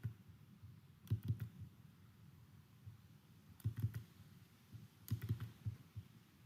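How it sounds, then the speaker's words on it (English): Typing on a computer keyboard, three short clusters of quick, soft key clicks spaced a couple of seconds apart, faint and close with quiet room tone between them. "Let's type cd"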